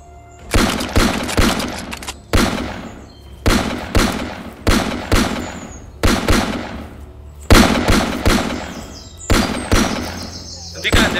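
Bursts of gunfire ring out repeatedly, sharp loud volleys with short gaps between them, echoing close by throughout.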